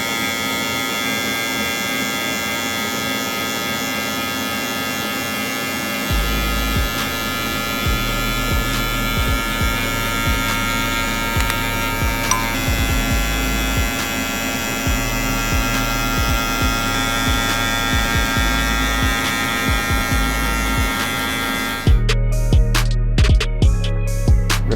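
Electric hair clippers cutting a drop fade at a barber's chair, a steady close buzzing hum with a throbbing motor drone that pulses as the blade works through the hair, ending in a brief clattering burst.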